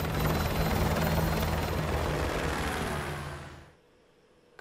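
Helicopter in Call of Duty Modern Warfare 2, a loud, steady rotor and engine roar that holds for several seconds before cutting away abruptly, leaving near silence.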